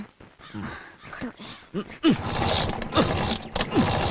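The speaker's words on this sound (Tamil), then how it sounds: "ஐயோ நல்லா கிக் பண்ணுங்க என்ன ஸ்டார்ட் ஆகல" Vehicle kick-started and failing to start: repeated mechanical kick strokes with a ratcheting, sputtering clatter that never catches into a running engine, mixed with a voice.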